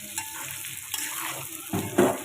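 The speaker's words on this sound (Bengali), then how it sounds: "চিলি চিকেনের সবজি ভাজা হচ্ছে" Vegetables for chilli chicken, including capsicum, onion and green chilli, frying in a pan with a steady hiss and a louder burst of sizzle and stirring near the end.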